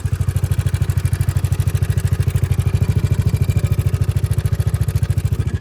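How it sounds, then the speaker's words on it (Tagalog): A Yamaha NMAX V2 scooter engine runs with a fast, steady rhythmic clatter from a worn chain tensioner, loud and close, a rapid helicopter-like chopping beat throughout. "Tunog helicopter siya, hindi ko alam kung bakit habang tumatakbo ako,"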